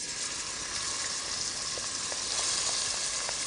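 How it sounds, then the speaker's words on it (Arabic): Minced meat hits hot oil in a pan with a steady, broad sizzle that holds from start to finish, a few faint pops rising above it, and no voices. "هبتدي أضيف اللحم"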